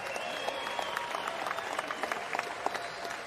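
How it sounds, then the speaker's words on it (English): A crowd applauds two boxers after a twelve-round championship bout, steady dense clapping filling the arena at a moderate distance with no voices standing out. "let's give both of our fighters a big round of applause"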